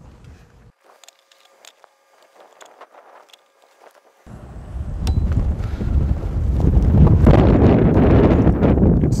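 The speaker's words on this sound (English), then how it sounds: "Quite windy out here." Wind gusts buffet the microphone outdoors, starting quietly with faint rustling, then swelling into a loud, steady roar for the second half.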